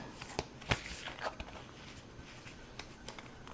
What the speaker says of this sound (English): Let me go ahead and shuffle a little bit.